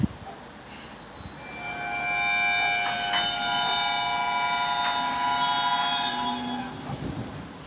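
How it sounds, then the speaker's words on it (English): A long, steady hiss of rushing air with layered tonal whine as a train's air brakes fill, swelling and holding near a rumbling train, with a faint voice at times. "Train's filling up with air."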